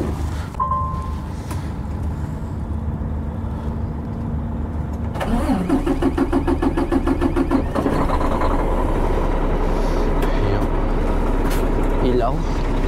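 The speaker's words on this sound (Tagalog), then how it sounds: "I-start natin para makita natin kung maganda ba yung ikot ng makina" A semi truck's diesel engine cranks over and catches, settling into a steady, rumbling idle that continues loudly with no talk over it.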